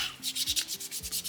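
Short, quick sandpaper strokes scrub across a soapstone owl carving, about five rhythmic rasping pushes heard up close with no talking.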